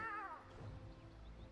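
A cat meows once near the start, a short rising-falling cry, then a low steady background murmur continues without further calls.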